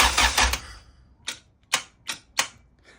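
Faulty starter motor on a Honda B-series engine swap clicking without cranking, a short burst of noise followed by four sharp, separate clicks spaced about half a second apart, close and loud with no engine turnover.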